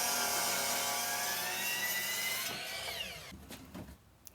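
Power saw cutting a 2x6 board to size for a headboard, a loud steady whining drone that winds down and stops, leaving a few faint knocks.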